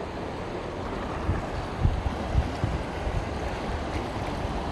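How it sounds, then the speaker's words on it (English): Wake waves from a passing cargo ship spilling over a sandbar onto the shore: a steady wash of water with a few soft surges, heavy wind noise on the microphone, and no voices. "the wake jumped the sandbar right back there and filled all this in right here"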